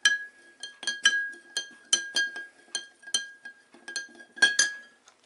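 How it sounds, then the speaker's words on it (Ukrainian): A spoon clinks repeatedly against a glass jar while stirring salt into hot water, about a dozen bright metallic taps in an uneven rhythm, close and clear with no talking. "размешиваем."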